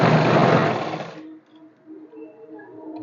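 A sewing machine runs loud and close for about a second of straight stitching on pants, then cuts off abruptly, leaving a quiet room.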